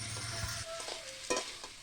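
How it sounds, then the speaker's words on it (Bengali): A spice paste with turmeric, chopped tomato and salt fries in oil, a steady close sizzle broken by a few scraping stirs of the spoon against the pan. "হলুদ গুঁড়ো দিয়ে মশলাটাকে ভালো করে কষবো"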